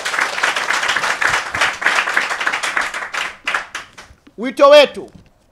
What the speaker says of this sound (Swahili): Pigeni makofi kwao